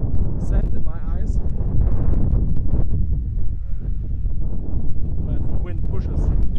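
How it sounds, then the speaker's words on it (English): Strong wind buffets a microphone outdoors while walking through Leipzig, a continuous loud rumbling roar with gusts, heard under someone talking throughout. "But wind pushes to my face."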